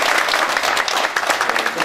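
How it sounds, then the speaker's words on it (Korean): An audience at a Jeonju forum on settling the pension fund management headquarters in Jeonbuk gives a steady, close round of applause, dense and even for about two seconds with no voices over it. "박수 좀 부탁드리겠습니다"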